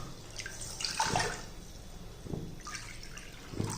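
Water is poured from a cup, about one and a half cups' worth, for making ragi kali. The splashing is faint and soft and comes in a few short bursts.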